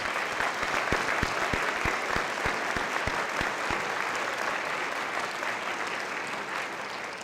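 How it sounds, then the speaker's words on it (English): Dense, sustained audience applause fills the room at the 2009 Tucson Festival of Books Author's Table Dinner, loud and close from start to finish. "let's give them all a big round of applause"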